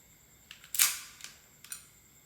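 A Chinese-made Colt 1911 R31 airsoft pistol with a silver alloy barrel has its slide worked, giving a loud sharp metallic snap followed by several lighter clicks, close up and without talk.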